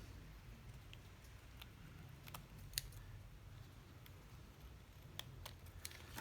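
Scissors trim red paper cardstock, making a few faint, crisp snips scattered over quiet background hum.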